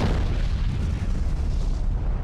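A deep, continuous roaring blast from the Krakatoa volcanic eruption, loud and sustained with a heavy low-end rumble throughout.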